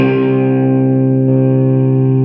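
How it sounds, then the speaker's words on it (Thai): One distorted electric guitar chord from a boost pedal rings out loud and sustained, buzzing with an overdriven effect and slowly fading. "นะครับนี่เสียงแตกจากเอฟเฟกนะ"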